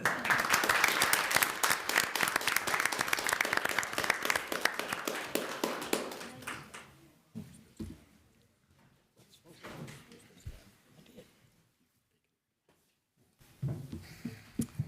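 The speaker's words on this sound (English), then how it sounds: "let's give them another round of applause." A council meeting audience gives a loud burst of clapping that fades after about six seconds, followed by scattered taps, thumps and shuffling in a quieter room with a brief final flurry of claps.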